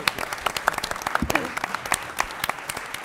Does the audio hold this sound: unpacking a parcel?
no